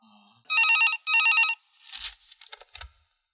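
A telephone rings with two loud, electronic double-trill bursts, followed by faint clicks and rustles as the handset seems to be picked up in a quiet room.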